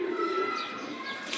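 Pigeons in a rooftop coop at home, a soft steady cooing murmur with faint chirps and a brief flutter near the end, close by and continuous without talk.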